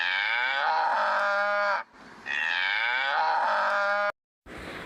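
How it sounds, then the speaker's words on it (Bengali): A cow moos in two long, loud, drawn-out calls close by, separated by a short pause, with no other sound. "গরু কি শব্দ করে ডাকে?"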